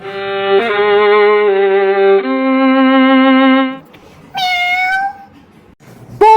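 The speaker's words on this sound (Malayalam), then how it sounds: "പൂച്ച അവിടുന്ന് പോവാൻ" A cat meows loudly several times, long drawn-out calls near the listener, followed by a shorter rising meow and another brief one at the end.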